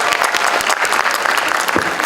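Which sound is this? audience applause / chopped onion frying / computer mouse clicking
audience applause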